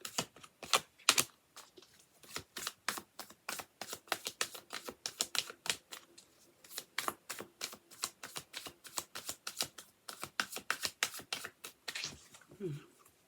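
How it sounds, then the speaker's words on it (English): Tarot cards are shuffled close up in quick repeated bursts of crisp snapping and riffling, a steady rhythmic series of sharp flicks. "more shuffles."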